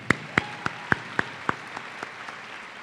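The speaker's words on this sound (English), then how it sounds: "Let's give them a round of applause." Scattered hand claps ring out at a medical school commencement, about nine distinct claps spaced roughly evenly and fading in loudness toward the end, sparse rather than a full crowd.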